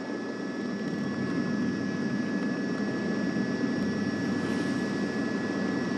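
A helicopter hovers above a Giro d'Italia 2014 cycling stage in Italy, giving a steady, loud rotor and engine drone with a constant whine that runs unbroken throughout, with no voices over it.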